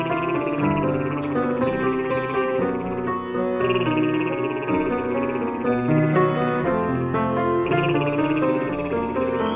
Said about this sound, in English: What if you change that to a buzz,